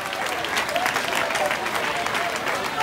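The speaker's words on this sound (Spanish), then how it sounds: "le demos un gran aplauso" Applause from a crowd at a town festival opening proclamation in Torrejón del Rey, a dense, steady wash of clapping that fills the whole stretch at full strength.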